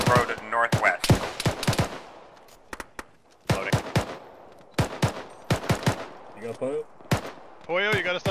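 Repeated gunshots in Arma, in short bursts and single cracks at close to mid range, with talk in between and over them.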